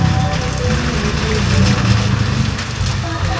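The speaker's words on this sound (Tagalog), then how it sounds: "umuulan, medyo madilim na." Heavy evening rain falls in a dense, steady roar of hiss and patter that stays loud and unbroken throughout, with a voice faintly present beneath it.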